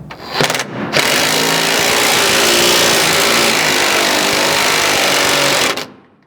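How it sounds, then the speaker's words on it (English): Bolts on the bed side of a 3rd gen Chevy Colorado are tightened during a bed stiffener install. Two brief bursts are followed by a loud, close, continuous mechanical whir lasting about five seconds before it cuts off. "then we'll tighten all our bolts out here in the bed side"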